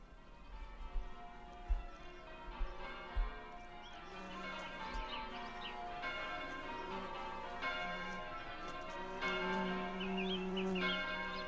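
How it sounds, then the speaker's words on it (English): Church bells ring in a song: resonant, sustained tolls strike at a slow, slightly syncopated pace. Soft low thumps come first, with faint buzzing and bird-like sounds in the quiet background. "I hear church bells and flies."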